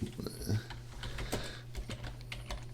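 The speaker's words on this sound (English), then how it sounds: "I know it's probably weird me typing while being on a live stream" Rapid typing on a computer keyboard during a live-streamed virtual classroom update, with irregular clusters of keystrokes clattering close and fairly quiet over a steady low hum.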